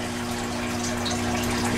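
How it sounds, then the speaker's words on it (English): Noisy filter running in a pet turtle tank. It gives a steady, close rush of water with a constant low hum, and the level holds even throughout. "I have a filter, and it's quite noisy."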